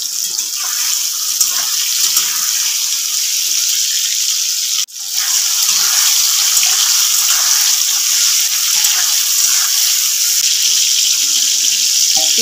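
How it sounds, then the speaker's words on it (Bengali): Sliced ridge gourd fries in mustard oil in a wok, giving a loud, steady hiss of sizzling that runs without a break, interrupted once by a short dip. "এবারে আমি কড়াইয়ের মধ্যে সরিষার তেল দিয়ে ঝিঙেগুলোকে হালকা একটু ভেজে নেব।"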